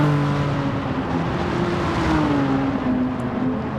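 Racing car engine in Gran Turismo Sport held at a steady high drone while drifting, its tone sliding slightly as revs shift, loud and continuous with no talk.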